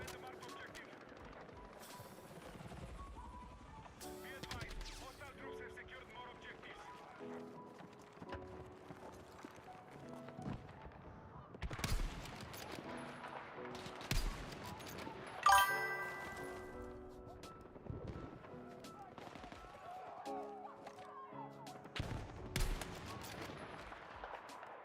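Gunfire in a video game aimed at the player, scattered bursts and single shots mixed with clip-clop hoofbeats, jingles and other game effects, with occasional voices.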